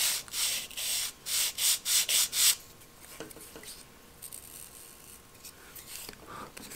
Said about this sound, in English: just give a little bit of sanding to it